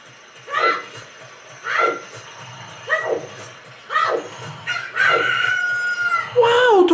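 Rooster crowing in the video game The Legend of Zelda: Ocarina of Time after a hatched egg, a series of short rising crow-like calls repeated about five times, ending in a brighter sustained game tone.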